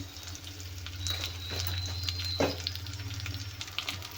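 A sambar mixture of vegetables cooks in a little oil with a soft, steady sizzle and gentle stirring scrapes over a constant low stove hum.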